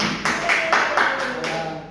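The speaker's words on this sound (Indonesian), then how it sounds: "tepuk tangan untuk semuanya" Students in a classroom give a short burst of applause, scattered claps and taps running for about two seconds at moderate loudness alongside a voice.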